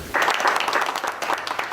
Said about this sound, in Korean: 그런데 아까부터 들리는 이 박수 소리는 뭘까요?